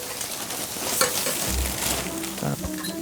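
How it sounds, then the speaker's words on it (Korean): Kimchi is stir-fried in a pot at a campsite, giving a steady, hissing sizzle throughout with a few soft scraping stirs and knocks underneath. "이 김치를 볶는 것도 처음이라서"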